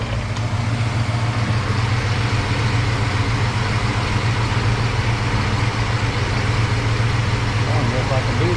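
A car engine idles steadily during a cooling system flush on a vehicle that is overheating, a constant low hum running unbroken and fairly loud throughout.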